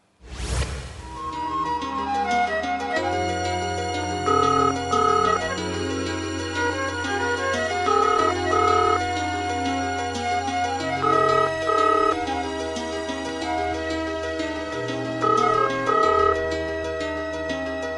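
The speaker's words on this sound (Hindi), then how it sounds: "इस कमबख्त फोन को भी अभी आना था।" A phone ringtone plays a looping melodic electronic tune, loud and continuous for many seconds with no talking over it.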